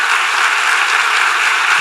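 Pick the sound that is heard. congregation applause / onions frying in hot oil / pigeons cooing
congregation applause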